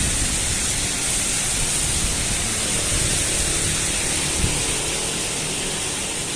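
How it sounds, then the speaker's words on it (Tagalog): Heavy morning rain in Penang, Malaysia, a dense, steady roar of downpour filling the whole scene without a break, loud and close. "Guys, heavy rain"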